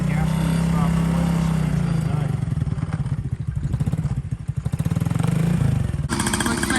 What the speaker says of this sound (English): Looks like Cody just started Carter's dirt bike